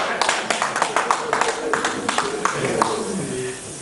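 Audience clapping at a sports journalists' convention, a burst of sharp, uneven hand claps over the first three seconds that fades out, with voices talking underneath.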